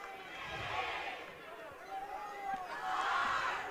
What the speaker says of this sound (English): The student section being very vocal to start this contest.